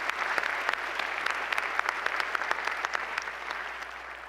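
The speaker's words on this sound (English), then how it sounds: "A round of applause for all of them also." An audience applauds steadily throughout at a university system's state-of-the-city address, a dense wash of clapping with scattered sharper claps and no voices over it.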